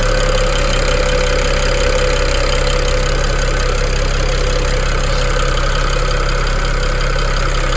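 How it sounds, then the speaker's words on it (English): An idling BMW engine hums steadily with a faint, rapid ticking running through it, constant and close, with no voices. "you're going to hear more tick through the cabin"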